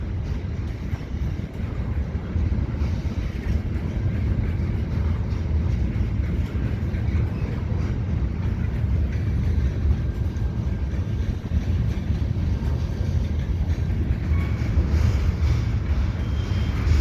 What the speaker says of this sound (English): I got an aggregate train and general freight on the other side.